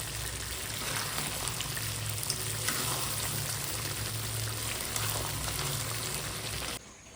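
Chicken curry fries over low heat in a pan, giving a continuous, even sizzle with soft stirring scrapes throughout before it cuts off abruptly near the end, with no voices.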